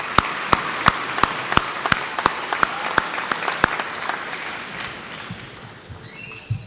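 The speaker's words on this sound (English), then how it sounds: "I'll clap for you." A single person claps a steady, even beat at an honors convocation, about two claps a second over a low murmur, then the clapping stops.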